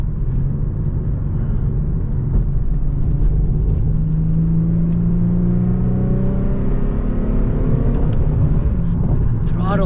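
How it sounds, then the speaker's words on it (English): An Infiniti G37 in sport mode drives with a loud, steady engine drone, the revs climbing and falling through gear changes from inside the cabin, with a driver's voice in places. "I'm actually gonna put it in sport mode and maybe downshift a little bit"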